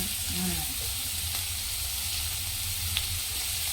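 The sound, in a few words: onions sautéing in a pan for tomato dish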